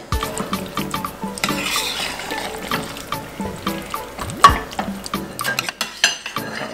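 Vegan, gluten-free cheese sauce being stirred into noodles for mac and cheese: wet, squelching stirring close up, with a spoon clinking and scraping against the pot in an irregular rhythm, no talking.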